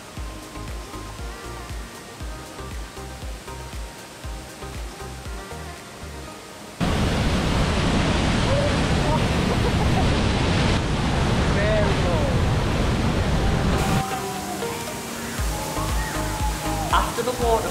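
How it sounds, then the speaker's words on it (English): Tegenungan waterfall in Bali, a small fall dropping about 20 metres, roars as a broad steady rush of falling water, loud and close, with wind buffeting the microphone and a voice talking over parts of it. "Compared to other waterfalls, Tegenungan is categorised as a small waterfall."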